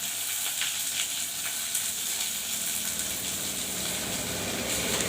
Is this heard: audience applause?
no